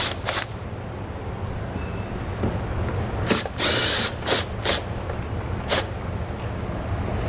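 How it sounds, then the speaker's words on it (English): A hand ratchet with a 10mm socket removes a nut from a 2016 Hyundai's frame rail during a trailer hitch install, giving several short sharp clicking bursts spaced irregularly over a steady low background hum. "10mm socket, we're going to remove this nut"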